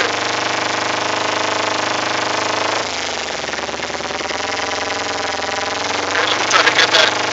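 The engine of a 2008 Kawasaki Ninja 250R idles high with the choke applied, a steady, loud rattling drone that shifts in tone partway through and surges near the end. A voice speaks faintly beneath it.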